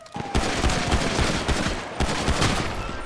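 Rapid bursts of gunfire crackle in the FiveM video game, loud and dense, with near-continuous shots over about three seconds.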